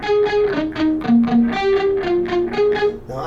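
An electric guitar plays a distorted riff with delay and reverb, a loud rhythmic run of short repeated notes with no voice.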